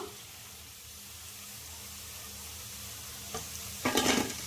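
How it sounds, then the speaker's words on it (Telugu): Gobi 65 cauliflower deep-fries in oil, a soft steady sizzle that rises into a louder, brief bubbling burst near the end, with no talking. "ఇలా ఎర్రగా క్రిస్పీగా వేపుకోవాలి"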